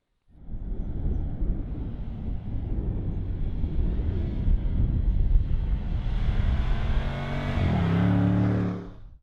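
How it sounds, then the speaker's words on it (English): A 2021 Range Rover Sport SVR engine hums steadily as the vehicle drives along the road, rising into a deeper, throatier roar near the end before cutting off. "this car is all about the drive. It's about that engine."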